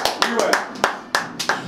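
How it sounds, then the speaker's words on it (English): A group claps together in a short welcome-back ritual at a Toledo, Ohio basketball event, giving a string of sharp, near hand claps with a voice mixed in. "Welcome back, two claps."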